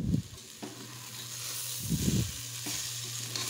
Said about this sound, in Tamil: அரிசியை சேர்த்து கறியோட மசாலாவோட நல்லா மிக்ஸ் பண்ணிக்கலாம்.